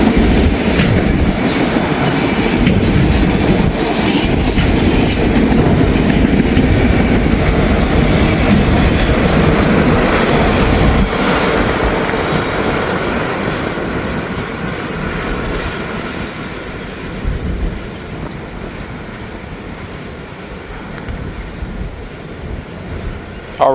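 Long freight trains roll past at close range, a loud rumble with rhythmic clickety-clack and wheel squeal, fading gradually as the cars pull away into the distance.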